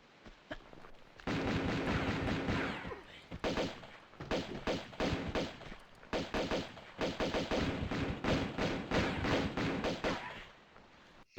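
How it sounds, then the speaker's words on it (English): Rapid bursts of gunfire and explosive booms from a grenade launcher in the video game Tomb Raider, loud and dense with brief pauses, firing in repeated clusters. "grenade launcher"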